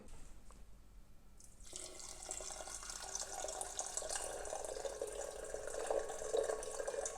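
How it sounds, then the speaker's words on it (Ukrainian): Warm water runs and splashes steadily into a container while descaling a Gaggia Classic Pro espresso machine, starting after a short quiet moment and continuing with a bright, hissing rush throughout. "Отже, додамо сюди ще теплої води"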